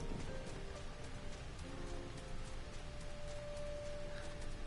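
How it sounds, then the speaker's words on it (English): Steady rainfall in the video game Final Fantasy XIV, a continuous hiss of drops on surfaces with a faint tone running underneath, even and unbroken throughout. "I kind of like listening to the rain."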